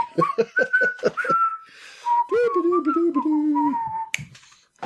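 A person whistles during a board game podcast, loud and close. Several short sharp tones come first, then a longer warbling whistled phrase, alone without talk.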